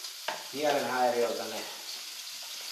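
Ready-made meatballs fry in a pan with a steady, broad sizzle, while someone talks over the cooking noise.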